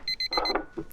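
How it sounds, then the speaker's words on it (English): A kitchen timer beeps in quick repeated bursts, close and clear, while potatoes for smoked potato buns are being prepared; a few clatters and soft handling noises follow the beeping. "that was the timer to let me know I can finish chopping the skins of the potatoes"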